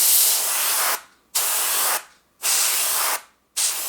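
Airbrush or spray paint hissing onto a model ship hull to lay rust streaks around the anchor opening, in three long steady bursts with short silent pauses between, close and fairly loud.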